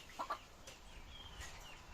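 Chickens on a small farm fed on greens, giving a couple of short clucks early on, with faint bird chirps against quiet outdoor background.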